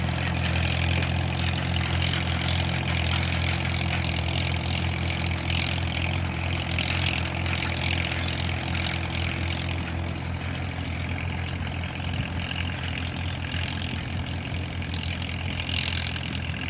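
A tractor engine runs steadily while raking hay, a continuous mid-distance rumble with a constant hum that loosens into rougher, noisier running near the end, with no voices.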